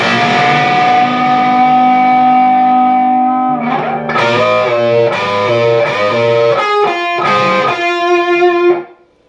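Electric guitar plays the pre-solo lick from a song, a sustained distorted, echo-laden note giving way to a run of bent, vibrato-rich picked notes, loud and alone, ending abruptly.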